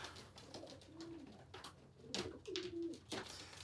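Homing pigeon cock birds coo inside a loft in soft, rolling phrases, two longer coos standing out, with faint rustling and the shuffle of the loft around them.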